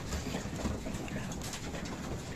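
Young racing pigeons cooing in a loft, soft low coos repeating under a steady background hum, fairly close and moderately quiet.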